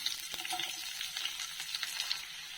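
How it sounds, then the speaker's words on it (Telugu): Thinly chopped onions dropped into hot oil with mustard seeds and cumin, frying with a steady close crackle and stirring scrapes, no talking. "ఇప్పుడు సన్నగా తరుక్కున్న ఉల్లిపాయ ముక్కలు వేస్తున్నాను"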